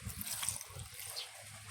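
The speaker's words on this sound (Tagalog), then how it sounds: "Lagyan tayo konting tubig." Water poured into a cooking pot of pinakbet, a soft low splash and trickle running steadily for a couple of seconds, close and fairly quiet with no talking.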